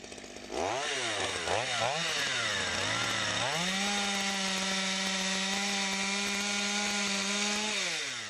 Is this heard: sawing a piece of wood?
yes